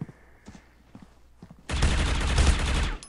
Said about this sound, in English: Here's sniper shots.